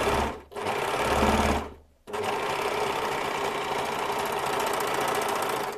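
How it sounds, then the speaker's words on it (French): A Juki MO-50eN overlocker runs a 3-thread overlock stitch, a steady close whirring hum that starts, pauses briefly, then resumes and runs continuously to the end. "Là on va tester le surfil à 3 fils."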